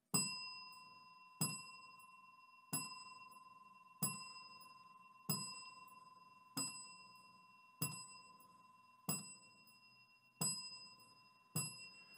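A bell is struck ten times at steady intervals of just over a second for a ten-count tribute to comedian John Witherspoon. Each clear, ringing strike fades slowly before the next, with no talking.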